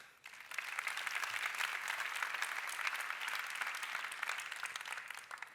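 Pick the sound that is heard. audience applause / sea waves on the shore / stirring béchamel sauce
audience applause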